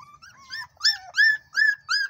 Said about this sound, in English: We are having a daily routine check on our dogs, like our puppies who have lost their mommy.